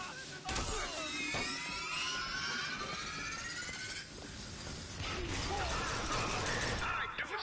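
Rapid bursts of gunfire from the video game Bioshock Infinite, short volleys of shots crackling over game music and sound effects, loud and close throughout.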